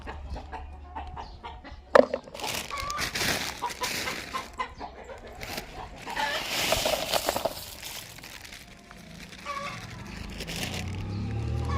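Chickens cluck and call near the microphone at a home, mixed with a voice talking and household clatter, with a sharp knock early on.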